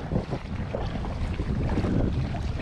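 An inflatable Gumotex Swing 1 kayak pushes out to sea straight into the waves, bringing close splashing and sloshing water along with heavy wind buffeting on the microphone, with no voices.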